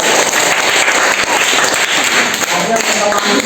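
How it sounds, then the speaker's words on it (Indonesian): Applause from a classroom group during a Catholic religious education teaching practice session, a steady dense wash of clapping filling the whole moment at fairly close range. "tepuk tangan dulu"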